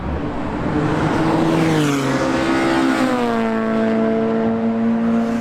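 A K20-swapped Honda Civic EG engine on a race track roars loudly and steadily, its exhaust note rising in pitch as it accelerates, with no voices.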